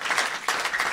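Brief burst of indoor audience applause at an evening temple program for a guest speaker, with dense, steady clapping throughout.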